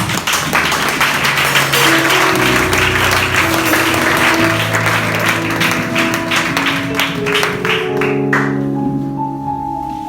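Church congregation applauding loudly and steadily throughout, a dense wash of clapping with music or voices running underneath.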